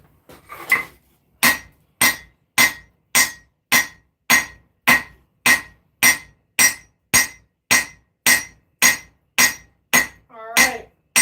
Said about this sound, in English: Once it's hot, I can start forging down the distal taper.